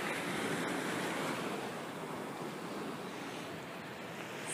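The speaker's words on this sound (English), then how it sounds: "So this seems like a sea, but it's actually a river. It's called Rio de la Plata. So yeah, it has waves and all." Waves on the Rio de la Plata river in Uruguay wash steadily as broad, continuous surf with wind noise buffeting the microphone, loud and close throughout.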